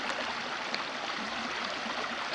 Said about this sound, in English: little bit of waterfalls or water's going through the rocks